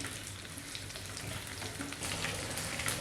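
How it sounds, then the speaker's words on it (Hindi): Steady crackling sizzle of chili and garlic frying in hot oil over medium flame, fairly quiet and close, with a brief stir partway through and no voices. "अच्छी तरह से फ्राई करेंगे तमाम चीज़ें"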